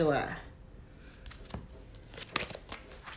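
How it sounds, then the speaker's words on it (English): Tarot cards shuffled by hand, giving soft riffling and papery flicks in short bursts, close and quiet, with a brief voice at the start. "going to shuffle these one more time"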